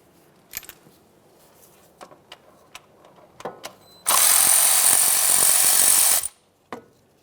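A power tool on a 2012-2015 Honda Civic 1.8L removes two 10mm mounting bolts of a neutral safety switch, running in one loud sustained burst of about two seconds after several faint clicks and taps, then one short final knock.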